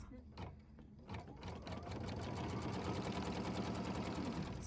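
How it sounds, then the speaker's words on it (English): An embroidery machine stitches a tack down line for a Deck The Halls winter design, a steady close mechanical whir of rapid needle strokes settling into a continuous run after a few starting thumps. "Place the hoop back on the machine and embroider the tack down stitch"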